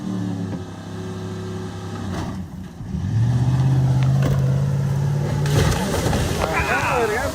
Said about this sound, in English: the farmer putting his Chevy in gear, jumping out of the way as the truck rolls forward with the accelerator weighed down